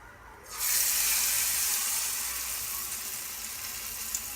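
Marinated mushrooms hit hot oil with a sudden loud sizzle that stays steady and close, a broad hissing crackle with no talk over it.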